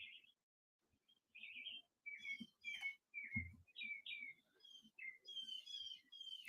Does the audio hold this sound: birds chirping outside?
yes